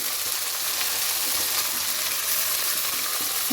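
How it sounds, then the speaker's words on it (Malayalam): Steady, crackling sizzle of dried red chilies frying in hot oil after mustard seeds have popped, continuous and close, with no voices. "കടുക് പൊട്ടിയതുകൊണ്ട് വറ്റൻമുളക് ഇട്ട് ആൻസൂട്ടനാട്ടോ ഇട്ടത്"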